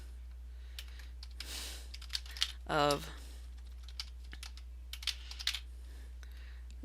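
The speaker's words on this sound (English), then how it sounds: "I'm having a really hard time typing today for some reason" Light keyboard typing, scattered clicks of keys in short bursts, with a brief spoken word partway through over a steady low hum.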